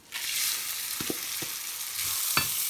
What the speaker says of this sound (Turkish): Pilavımız kavruldu bu şekilde. 5-6 dakika kavurduk.